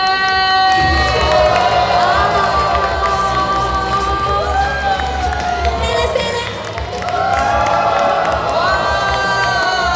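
A fan crowd at a signing event for a band cheers loudly and continuously, with high screams and whoops layered over a dense roar of voices that dips only once, briefly.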